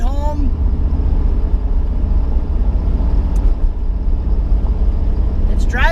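An LS V8-swapped Nissan 350Z cruises down the road, its engine a deep steady rumble from inside the cabin, with brief voice fragments at the start and end.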